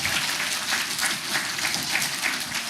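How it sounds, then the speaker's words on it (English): Children and families at a primary school swimming graduation clap in a steady, dense patter, moderately loud and continuous throughout without any talk. "Give yourselves a big round of applause,"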